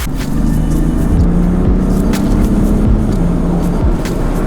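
A BMW M3 pulls away on the road, its engine rumbling low and steady with loud, continuous drone and a few shifts in pitch as it gathers speed.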